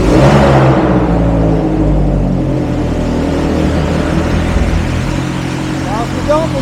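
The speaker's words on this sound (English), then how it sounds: "if you don't believe me how loud this car is, I've got my mic right here" Ferrari 430 GT3 Challenge race car engine, a loud, close, continuous rumble and drone that holds steady throughout with a slight rise near the end.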